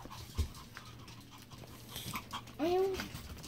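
Young Pomeranian puppies panting softly up close, with a brief rising whimper near the end and a faint voice in the background.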